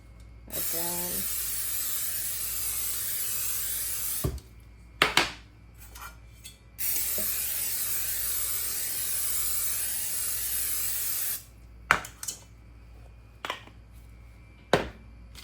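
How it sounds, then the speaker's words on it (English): Pam cooking spray hisses onto cake pans in two long, steady bursts, each a few seconds, broken by brief clinks of pans and a short pause between sprays; close and fairly loud, with no talking. "So I will be spraying these with some Pam."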